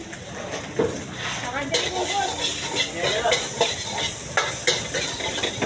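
Fried rice with vegetables sizzles and hisses steadily in a hot pan at a food stall while a utensil scrapes and stirs, with voices talking over the cooking.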